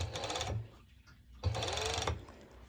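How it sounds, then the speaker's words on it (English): A serger overlock machine stitches fabric for a V-band bottom in two short, close bursts of rapid whirring with a brief pause between them. "and then I start serging"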